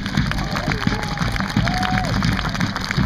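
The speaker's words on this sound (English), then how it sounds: "Big round of applause for that." An outdoor crowd at a fife and drum corps gathering claps and cheers, with a dense wash of applause under scattered shouts and a few whistle-like voices, steady throughout.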